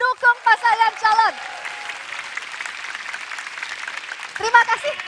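Studio supporters at a live televised 2024 Indonesian presidential debate broadcast break into steady applause after a host's spoken prompt, the clapping filling the room for several seconds before speech resumes over its tail.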